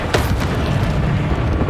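Bombarda blasting spell going off in the Hogwarts Legacy video game, a dense booming explosion that fills the whole short stretch at steady loudness, with sharper crackling bursts near the start.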